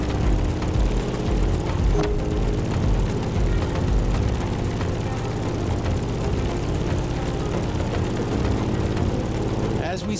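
A steady, droning propeller engine of a Grumman F8F Bearcat in the video game The Crew Motorfest hums continuously at a constant pitch, loud and unbroken throughout.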